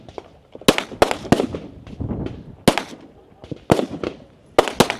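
Pistol shots crack sharply in an irregular series at a competitive shooting stage, fired with the shooter's non-dominant hand, loud and close with some softer clatter between them.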